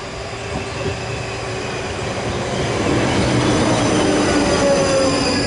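A train rolls along steadily into Wraysbury station on the South Western Railway Reading and Windsor lines, its rumble building slightly, with faint wheel squeals and a high metallic whine near the end.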